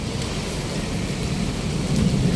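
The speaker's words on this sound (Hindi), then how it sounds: "हुण बाद जड़ा ना बड़ा तेज झक्खड़ चल रहा, ते नाल बारिश, ते बदल बोल रहे हैं" A strong windstorm with heavy rain and rumbling thunder: dense, steady rain hiss over a deep, rolling thunder rumble that swells toward the end, loud and close, with no speech.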